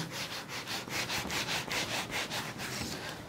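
Writing erased from a board with a back-and-forth rubbing rhythm, about a dozen quick, even strokes, close and steady with no voices.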